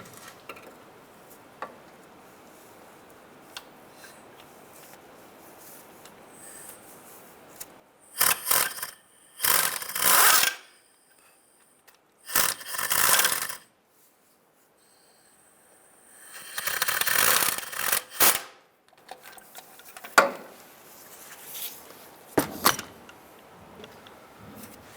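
Tightening a starter bolt on a Honda Element produces several separate bursts of ratcheting and metal clatter, each lasting a second or two, with quiet gaps between them and no talk.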